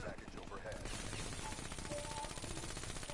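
Rapid gunshots from a player firing in a shooter video game, a steady dense burst of automatic fire with voices talking underneath.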